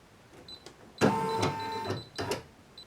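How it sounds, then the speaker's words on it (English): An embroidery machine running a tack down stitch on a multi-position hoop for plush making, a short mechanical whirring buzz with rapid stitching rattle, stopping and restarting, heard close in a quiet room. "And then I'm going to run the tack down stitch"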